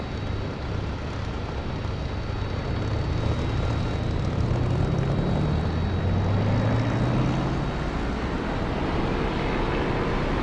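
A propeller aircraft in the DCS flight simulator game takes off: a loud, continuous engine drone rises steadily in pitch as it gathers speed along the runway, heard alone without talking.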